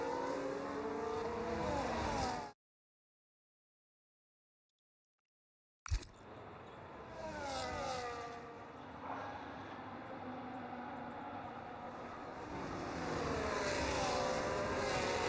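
Racing cars roar and rev around the Miami circuit in a sim racing game during a safety car restart on hard tyres, engines rising and falling in pitch with a gap of silence partway through.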